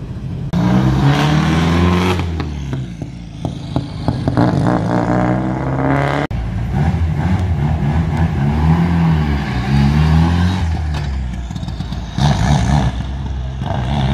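A Subaru rally car accelerates hard at the 2021 Bandama Rally in Côte d'Ivoire, its engine roaring loud and close and revving continuously, with a brief break partway through.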